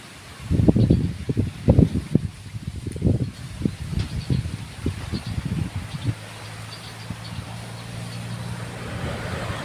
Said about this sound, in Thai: นี่ก็ลม